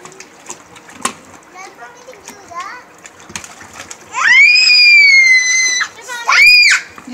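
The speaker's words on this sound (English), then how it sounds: "if you guys keep screaming" Children scream shrilly while playing, with long high-pitched shrieks that rise out of a background of splashing and chatter.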